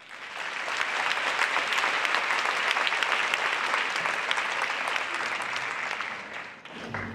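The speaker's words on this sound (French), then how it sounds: "On applaudit bien fort Anka Wittenberg." Sustained, loud applause from a seated audience at a French-language panel on women leaders, greeting speaker Anka Wittenberg; dense clapping holds steady for about seven seconds before tapering at the very end.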